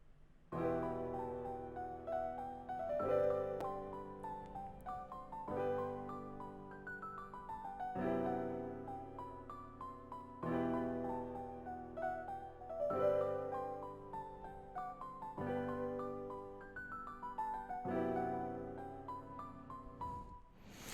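A looping beat pattern plays on a soft synth patch called LA Custom Softest, with repeating phrases of descending melodic notes over a steady rhythm, clear and alone without talk.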